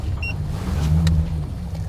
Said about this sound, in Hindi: अब जैसे ये गाड़ी बंद है तो जैसे मैं इसे ऑन करूँगा